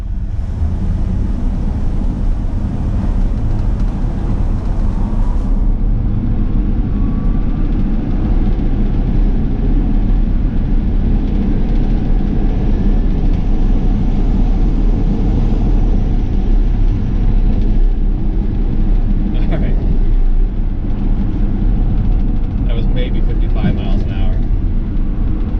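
A Ford Ranger F100 truck pulls away hard in a drag test, its engine a loud, steady roar that builds and holds for the whole stretch, with a shift in tone partway through and no talk over it.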